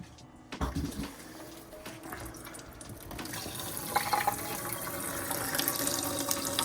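Tap water from an under-sink filter faucet gushes steadily at good pressure, a continuous close hiss that swells a little as the flow builds.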